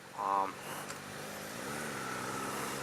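A 2018 Suzuki SV650 naked motorcycle cruises along, its engine a steady droning hum with rising and falling pitch under wind noise, after a brief tonal sound at the start.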